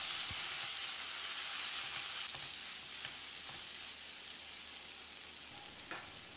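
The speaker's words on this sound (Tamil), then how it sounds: "அளவான தீயில ஒரு 10 செகண்ட் பிரட்டி விட்டுடலாம்." Chili and coriander powder frying and being stirred in a pan over medium heat while making cabbage potato masala, a dense close sizzle with a few soft scraping stirs, fading slightly toward the end, no voices.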